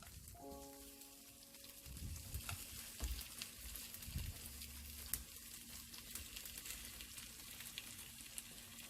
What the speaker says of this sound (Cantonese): 煎年糕咧唔使心急，